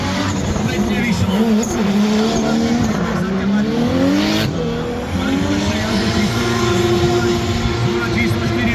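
Race car at high speed on a hill climb course, engine note loud and close, rising and falling in pitch through gear changes, with a commentator talking over it throughout.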